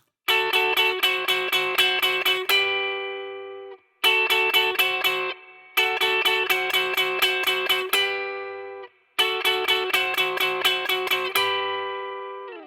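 Electric guitar plays a song's triplet build-up, four bursts of quick repeated chord stabs each ending in a ringing held chord, clear and solo.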